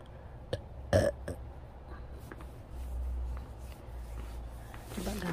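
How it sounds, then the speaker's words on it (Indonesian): Someone suffering a toothache lets out repeated burps, a couple of short close belches early on and another toward the end, with soft shuffling in a quiet room between them. "Sendawa terus."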